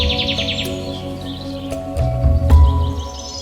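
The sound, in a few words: kingfisher call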